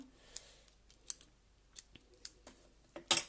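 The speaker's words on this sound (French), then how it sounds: "Allez, le petit ciseau." Small scissors snip through paper ribbon in a papercraft album-making setting, a handful of sharp, crisp cuts spaced irregularly, close and quiet, ending with a louder final snip.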